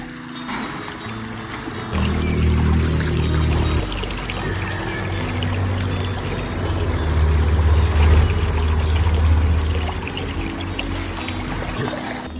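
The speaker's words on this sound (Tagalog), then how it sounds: "napakalakas ang agos ng tubig na mula dito sa loob ng ating pinaghuhukayan" Strong flow of water inside a freshly dug mini pool beside a creek, a steady rushing pour with low churning rumble, continuous and fairly close.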